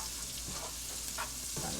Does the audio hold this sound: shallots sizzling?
yes